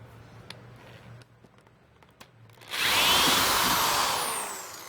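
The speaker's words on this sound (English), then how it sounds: "I'm going to pull the trigger, I'm going to drill down, I'm going to come up" A few quiet clicks and handling sounds, then a power drill whirs loudly and steadily, boring into material up close.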